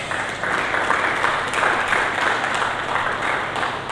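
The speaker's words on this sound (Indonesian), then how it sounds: "Mari kita berikan tepuk tangan bagi Yesus Kristus." Steady applause fills a church as the congregation claps for Jesus Christ during a sermon, a continuous even wash of many hands over a low background hum.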